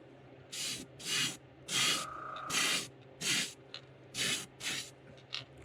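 Airbrush spraying a pearl paint coat onto a custom fishing lure in about eight short, even bursts of close hissing, separated by brief quiet pauses, with a faint steady hum underneath.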